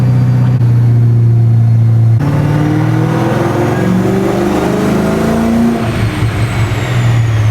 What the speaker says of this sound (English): racking up the miles here on the dyno